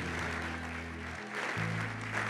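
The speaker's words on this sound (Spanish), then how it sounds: "Démosle ese aplauso al Señor" Applause rises from a church congregation over a low sustained organ or keyboard chord, moderately loud and continuous, swelling slightly toward the end.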